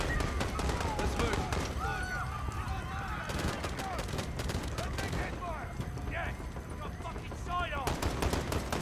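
Bursts of automatic and single gunfire in Call of Duty: Modern Warfare during a police raid at Piccadilly Circus, London, crackling amid shouting voices and game chatter.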